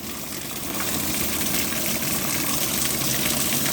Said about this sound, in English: That's the rain pouring out of the gutter.